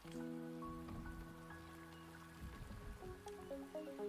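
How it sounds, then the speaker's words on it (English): Rain falling in the video game Wuthering Waves, a steady soft patter of drops under sustained tonal game music, no speech. "The rain is subsiding, and the sky will soon clear."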